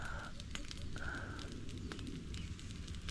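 An outdoor cooking fire in a bamboo grove crackles and pops softly and steadily while tilapia grills over it, quiet and close, with no talk.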